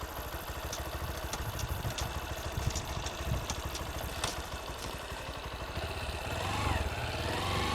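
Motorcycle engine idling on a farm in New Zealand, a steady close putter with mechanical clatter that grows a little louder near the end.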